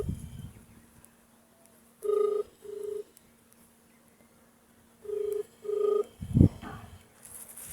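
An unanswered phone call plays its ringback tone in two paired bursts, two tones close together, then a pause and two more, ending in a brief clatter, with a faint background hum.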